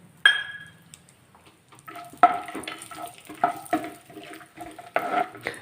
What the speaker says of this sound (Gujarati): તમે અહીંયા કાજુ અને બદામ લીધેલા છે તેને આપણે રોસ્ટ કરી લઈશું